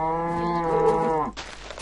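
A single long cow moo from Minecraft, loud and close, lasting over a second before cutting off to quiet background.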